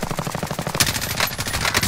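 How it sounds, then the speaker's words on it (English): Gunfire in a shooter video game: a rapid string of sharp shots fired in quick succession, loud and close, lasting under two seconds with no voices. "I'm getting sniped by the last guy."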